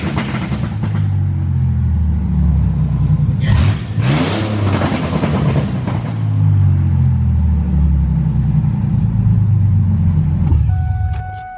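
A Ford Mustang drift car engine idles with a deep rumble, then revs hard once with a rising roar that falls back to idle, loud and close, before the engine cuts off near the end.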